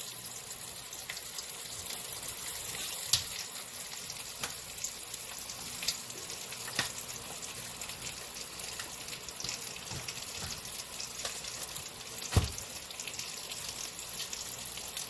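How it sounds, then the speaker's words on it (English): Bratwurst frying in a pan with a little water, a steady bubbling sizzle that continues throughout, with a few sharp pops and clicks rising above it. "fry it with a little bit of water to add the texture of the bratwurst"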